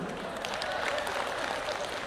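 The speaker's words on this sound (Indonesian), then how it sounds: "Ibu-ibu kok tepuk tangan?" Steady, dense clapping from a seated audience at an Islamic New Year sermon in Sidoarjo, a continuous broad wash of applause with no voice on top.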